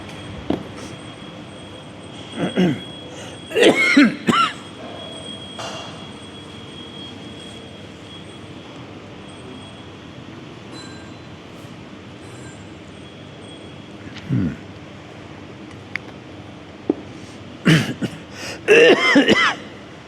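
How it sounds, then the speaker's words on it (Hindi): Two clusters of harsh coughing and throat clearing, early and near the end, separated by a long stretch of steady fan-like hum. "खांसी आ रही।"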